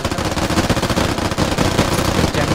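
Rapid automatic gunfire fired into the sky in the military shooter Squad, loud and close, a continuous rattling stream of shots with no pauses, several weapons overlapping in a dense volley.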